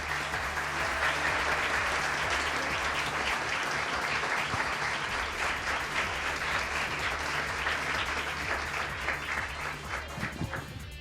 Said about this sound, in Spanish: quiero pedirles a todos ustedes un aplauso y para los caballeros también que nos acompañan esta noche